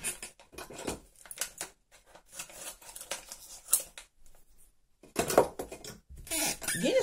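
Several quick snipping sounds of scissors cutting open a henna hair dye packet, close by, in short irregular bursts with quiet gaps between.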